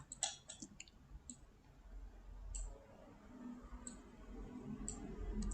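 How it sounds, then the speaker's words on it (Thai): A computer keyboard space bar is pressed a few times, making faint, scattered plastic clicks over quiet room noise. "ก็คือกด space bar นะคะ ที่แป้นพิมพ์ค่ะ"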